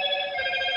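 A telephone rings during a live show, a steady electronic ringtone with a bright, sustained tone, heard alone and fairly close.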